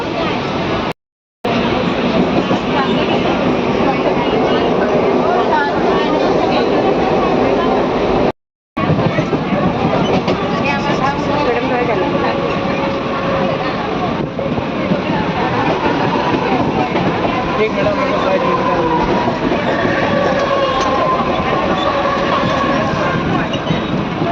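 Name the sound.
train running on rails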